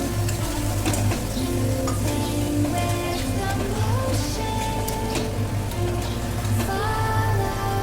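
Chicken masala with chilli paste and tomato paste sautés in a pan with a loud, dense, continuous sizzle and crackle, plus occasional scraping of the spoon throughout.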